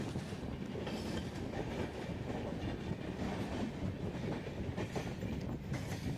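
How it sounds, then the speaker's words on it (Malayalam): Passenger train with AC coaches running on rails behind a WAP7 electric locomotive of the Bhavnagar shed, a steady loud rumble and rattle of wagons with faint clickety-clack, no voices. "പിന്നെ ലോക്കോമോട്ടീവ് നേരത്തെ കണ്ട പോലെ തന്നെ ഭാവനഗർ ഷെൽഡിൻ്റെ ഒരു WAP7 ലോക്കോമോട്ടീവാണ്"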